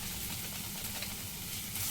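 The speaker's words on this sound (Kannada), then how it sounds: "ಹಸಿ ವಾಸನೆ ಹೋಗುವವರೆಗೆ ಸ್ವಲ್ಪ ಇದನ್ನ ಫ್ರೈ ಮಾಡಬೇಕು" Garam masala powder mixed into the masala for a paneer gravy fries in a pan with an even, fairly quiet sizzle that holds steady for the whole short stretch.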